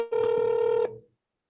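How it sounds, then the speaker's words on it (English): A telephone dialing tone plays as a call is placed by phone, one steady dual-pitch beep lasting under a second, clear and close with no talk. "So we're going to get Kevin on the phone here instead of Discord"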